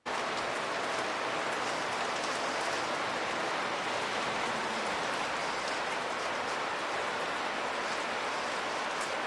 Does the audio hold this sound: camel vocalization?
no